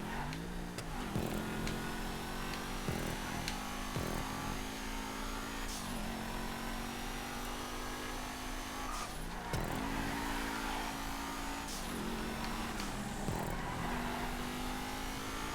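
An Exemplar car's engine races in GTA 5, revving steadily with repeated rises and drops in pitch as it shifts and accelerates, loud and continuous with occasional tire squeal.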